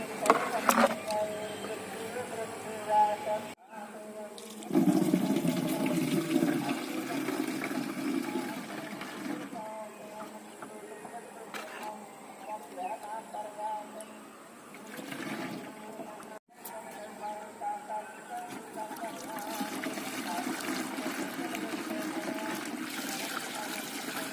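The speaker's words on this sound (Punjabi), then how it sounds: "ਆਪਾਂ 1 ਲੀਟਰ ਪਾਣੀ ਪਾਵਾਂਗੇ" Water is poured into a backpack spray pump for spraying a paddy nursery, a rushing, gurgling pour in a couple of bursts over steady outdoor background noise, with someone talking at times.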